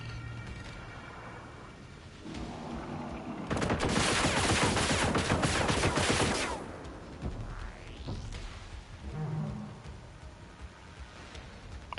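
In the Generation Zero video game, a loud, sustained burst of rapid gunfire at robots runs for about three seconds between quieter mechanical clanks and creaks.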